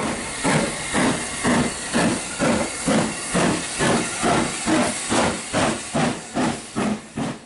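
A steam locomotive hissing in steady rhythmic pulses, loud bursts of steam repeating about twice a second, close by.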